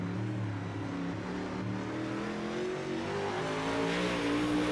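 A UMP race car takes a qualifying lap at Kokomo, its engine a steady, loud roar with a rising and falling pitch that holds without a break.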